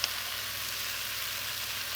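Potatoes with a spoonful of spice rub fry in a pan for green chile stew, giving a steady, even sizzle close by with no talking.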